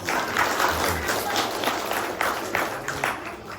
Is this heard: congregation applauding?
yes